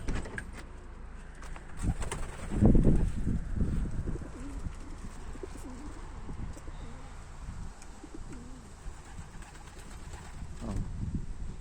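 Young pigeons in a loft giving soft, low cooing calls that repeat through the clip under a faint background hum, with some rustling and a louder shuffling burst early on.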